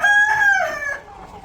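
A rooster crows once close by, a loud drawn-out call that rises, holds and then trails off, with chickens around.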